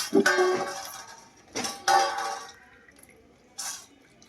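Food being rinsed in water again and again, with several splashy sloshing bursts and light clinks of a vessel spaced over a few seconds, fairly close and with no talk.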